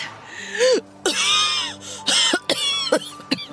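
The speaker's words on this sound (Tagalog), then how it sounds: "Ang sama ng tunog ng ubo mo." Several harsh, hoarse coughs in quick bursts, close to the microphone, with strained, wheezy catches of breath between them.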